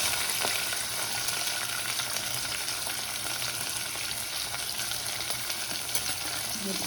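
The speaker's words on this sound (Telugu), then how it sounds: "ఆవాలు కొంచెం చిట్టపెట్టలు ఆడంగానే ఇవైతే జీలకర్ర వేస్తున్నాను" Oil tempering of mustard seeds, cumin, chilli and onion sizzles loudly and continuously up close, a dense hiss with faint crackles throughout and no talk.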